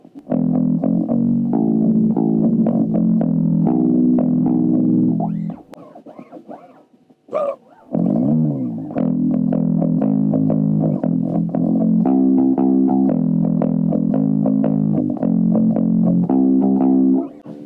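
Jolana D Bass electric bass guitar, Czechoslovak-made, played through its pickup, a run of plucked low notes with a gritty, distorted edge, briefly pausing midway before the riff resumes.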